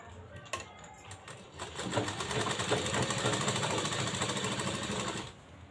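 Sewing machine stitching across the marked fabric of a blouse cup, a fast steady mechanical rattle running several seconds after a few brief starts, fairly close and clear.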